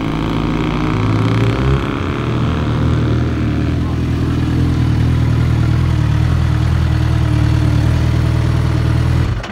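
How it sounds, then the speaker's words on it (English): A 2006 Suzuki GSX-R1000 K6 sports motorcycle engine runs with a deep, steady idle rumble, loud and close, holding evenly for several seconds before it stops. "It's a 2006 GSXR 1000 K6 sports bike"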